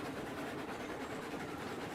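A steam train rolling along the track in Railroads Online, with a steady rumble and faint rhythmic clatter of wheels, held at an even level and with no voices.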